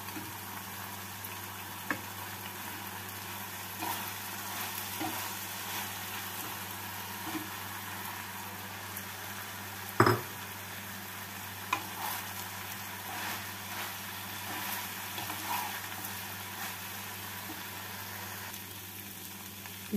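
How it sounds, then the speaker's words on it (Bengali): Fried cauliflower fritters for a dry cauliflower Manchurian are tossed into chilli garlic and red chilli sauce, giving a low, steady sizzle with soft stirring noises. One sharp clack of a utensil comes near the middle, and nobody speaks. "এবারে এর মধ্যে ভাজা বড়াগুলো দিয়ে দিচ্ছি"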